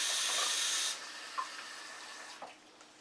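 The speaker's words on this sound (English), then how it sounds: "Let me go ahead and add in the water. That's 6 cups of water." Water pours into a Revere Ware stock pot for a meatless cassoulet, a loud hissing rush for about a second that stops abruptly, followed by faint drips and light clinks.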